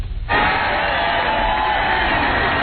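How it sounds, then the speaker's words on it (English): Loud, roaring crowd ovation at a golf course in Augusta, Georgia, rising sharply after a brief lull and holding steady with dense cheering and shouting. "This is the kind of ovation he was hearing as he continued to eat up the course in Augusta"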